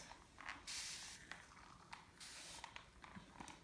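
Several short, soft hissing sprays from a spray bottle misting curly hair, spaced irregularly among faint rustling and clicks.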